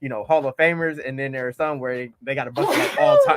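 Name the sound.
sneeze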